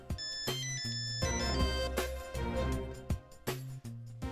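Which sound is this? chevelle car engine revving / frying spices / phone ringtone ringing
phone ringtone ringing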